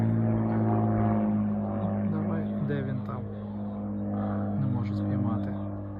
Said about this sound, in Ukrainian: І це у нас так літають літаки.